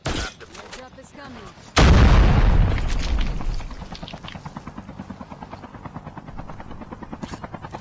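A helicopter in the Call of Duty Mobile battle royale game thumps with rapid, steady rotor chops after a loud boom, the blades pulsing close and clear through the rest of the moment.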